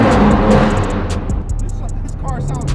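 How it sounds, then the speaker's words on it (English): Turbocharged BMW M4 F82 engine up close, a loud rumble with turbo whoosh and a scatter of sharp exhaust pops and crackles as it settles. "You hear the turbo spooling up and releasing. You hear these big pops and bangs."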